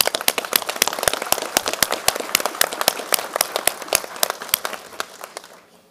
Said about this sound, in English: And we'll also give you a round of applause.